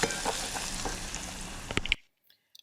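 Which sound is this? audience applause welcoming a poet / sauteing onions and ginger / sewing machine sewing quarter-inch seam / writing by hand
sauteing onions and ginger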